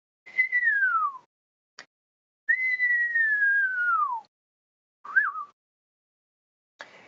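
A person whistles in imitation of a common starling: two long, high, downward-sliding whistles, a short sharp click, a brief twisting warble, then a faint final note, each separated by silence.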